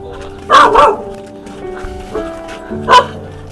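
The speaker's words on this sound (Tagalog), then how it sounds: "Oops, may aso." A dog barks nearby, a quick pair of barks followed by a single bark a couple of seconds later, with faint background noise between.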